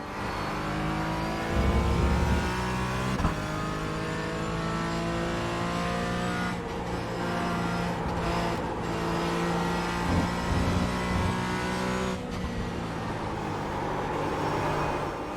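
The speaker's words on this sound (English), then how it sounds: "Car's like four-wheel drifting through there." Race car engine in the iRacing sim game howls at high revs with steady harmonic drone, shifting pitch as the car four-wheel drifts through a corner, tire scrub faintly underneath; loud and continuous, no talking.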